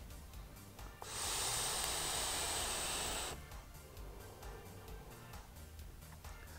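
A long, steady airy draw on a FumyTech Cyclone VT rebuildable dripping atomizer with its airflow closed off: one continuous hiss of about two seconds, close and fairly loud, between quieter background noise.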